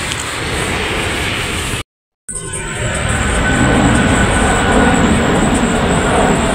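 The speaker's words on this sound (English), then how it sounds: "We live really close to the Memphis International Airport, so there are a lot of planes just flying around here." A plane flies over a home very close to Memphis International Airport, a loud, steady broadband engine roar that briefly cuts out and then returns even stronger, with no talking.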